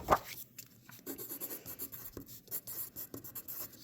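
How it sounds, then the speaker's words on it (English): A pencil scratches and taps across watercolor paper in quiet, uneven short strokes, close up, with a brief louder scrape at the start. "When you get your paper, write your name on the back"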